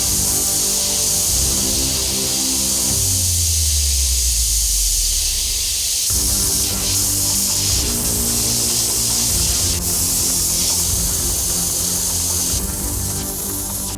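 An airbrush sprays paint over a stencil onto a soccer ball, a continuous loud airy hiss running the whole time with a low mechanical hum beneath and slight shifts as the spray moves.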